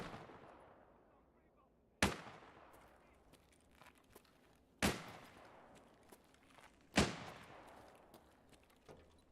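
Sniper rifle shots crack out in Escape from Tarkov. Three sharp, heavy reports come a few seconds apart, each trailing a long echoing decay, fairly faint and distant.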